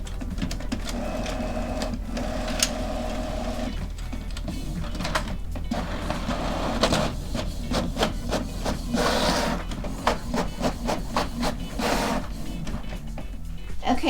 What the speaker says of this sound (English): this is our checklist that we printed out